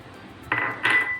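Lumps of jaggery dropped into a kadhai on a gas stove land with two quick close clunks against the metal pan, with nothing else heard around them.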